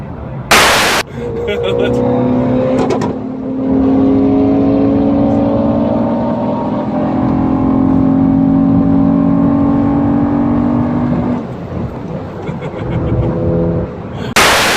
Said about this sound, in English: So dude, you can see the backfire, you can hear the backfire